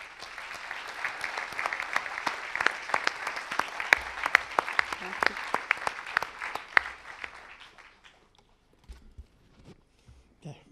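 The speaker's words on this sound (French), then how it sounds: "Je vous demande un tonnerre d'applaudissements pour Julie Brisson." An awards audience at an accountancy congress prize ceremony gives a hearty round of applause for a prizewinner, sharp claps rising and peaking, then fading out near the end to a quiet room with faint movement.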